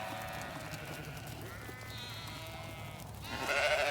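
A dairy sheep bleats close by on a farm over a low rumble of background noise, and a second, louder bleat starts near the end.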